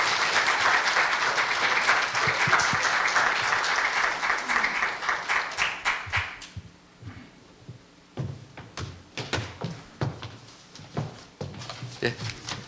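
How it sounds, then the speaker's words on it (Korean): An audience at a university health forum applauds to welcome a lecturer: dense, loud clapping for about six seconds that thins into scattered claps, with someone speaking in the gaps. "박수로 환영해 주시기 바랍니다."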